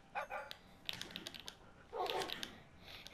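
Tamed Minecraft dogs give a few faint, quick yips and barks in two short bursts, mixed with soft clicking from a computer keyboard.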